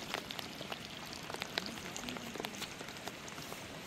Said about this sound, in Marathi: कॅमेरावरती पाऊस पडतोय